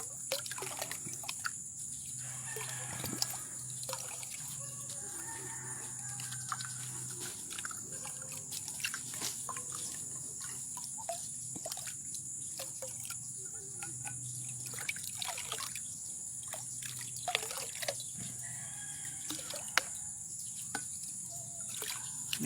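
Inorganic fertilizer is stirred into water to feed watermelon plants, giving faint, continuous liquid trickling and sloshing with scattered small clicks, over a steady high insect-like drone outdoors.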